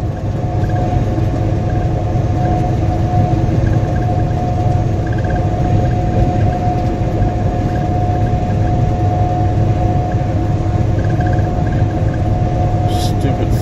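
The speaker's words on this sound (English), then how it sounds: "Here comes a main line up here. Main line train." A main line freight train hauling tank cars and coal hoppers rolls past: a steady, loud, unbroken rumble of wheels and cars that continues for the whole stretch.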